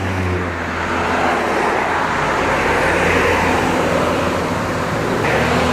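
Passing cars on a two-lane highway fill the scene with a steady, fairly loud roadway roar that stays continuous throughout, with no talking.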